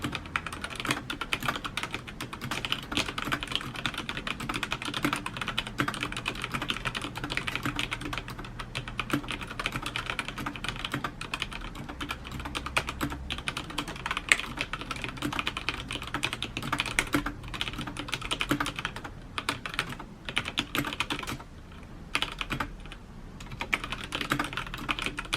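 Continuous typing on a HyperX Alloy Elite 2 mechanical keyboard with HyperX Red switches, a steady dense patter of close key clicks and clacks running throughout with no voices.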